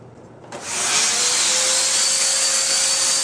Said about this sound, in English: you basically just want to vacuum up some of the large debris that you see on the bottom